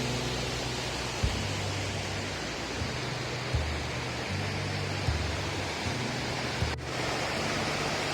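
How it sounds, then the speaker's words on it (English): Creek-side outdoor ambience of steady, quiet rushing water with a faint low hum underneath, continuous and unchanging throughout. "We stopped for a while on the creek side."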